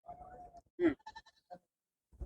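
A goat bleats several times at a goat market (bakra mandi) in Tungwali: a drawn-out call, then a loud sharp bleat and a few shorter ones, close by with quiet gaps between.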